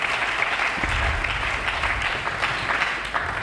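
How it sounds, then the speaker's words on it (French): A church congregation claps loudly and steadily throughout a sermon, a dense sustained burst of applause filling the room with no break. "Acclamons très fort pour le roi"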